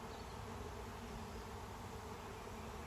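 A honeybee swarm settling at a nuc hive made from old equipment, giving a continuous dense buzz of many bees close by, steady and even throughout with no voices.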